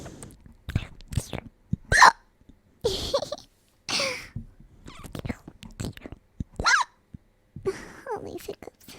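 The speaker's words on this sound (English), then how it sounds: "All these hiccups." Repeated hiccups from a person, short sharp vocal bursts scattered among soft breathy murmurs and sighs, close and intimate, fairly quiet overall.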